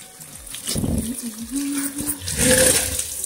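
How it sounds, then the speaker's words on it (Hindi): Water runs and splashes into a container from a motor-pumped tap at home, a steady gushing rush with rising fill tones, close by, with faint voices in the background. "अभी पानी भर के फिर से"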